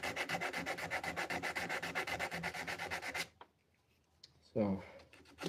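A hand rasp rough-cuts a sapele wood knife sheath with rapid, rhythmic rasping strokes that are close and steady for about three seconds, then stop, followed by a voice speaking.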